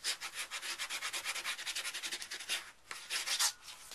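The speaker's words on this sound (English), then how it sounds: "Find your fold, because you've got to burnish them." Repeated rubbing strokes of a burnishing tool pressing a paper fold flat while assembling a handmade mini album, steady close scraping swipes in a quick rhythm, with a brief pause before a final burst of strokes.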